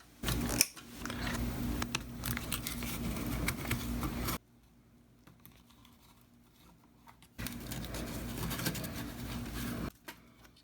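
Two bursts of close, rasping mechanical noise mark screws being backed out of the choke on a Dynaco Dynakit ST70 stereo amplifier chassis, separated by a few seconds of near silence.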